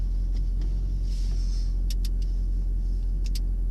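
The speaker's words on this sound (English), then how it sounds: "Launch control is going to give us a better, more aggressive start as well." A Mercedes SLS AMG sits held on launch control, its engine a steady, deep rumble close by, with a few faint high clicks over the top and no clear rise in revs.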